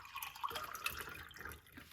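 Water is poured into a cup holding squeezed lime juice, giving a short, soft trickle with light drips, close and quiet.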